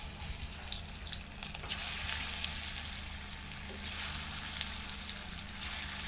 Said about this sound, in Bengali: হালকা করে ভাজা নিই।